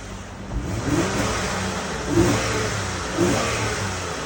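A Honda Odyssey engine revved in a few short bursts, heard close by as a mid-pitched rising roar over a steady idle, three swells spaced about a second apart.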